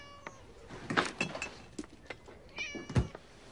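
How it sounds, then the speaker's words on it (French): A hungry cat meows several times in short, close cries, with a few faint clinks between them and no talk over it. "Minou, Minou, Minou, Minou. Minou, Minou, Minou. Bonjour, toi. Tu as faim"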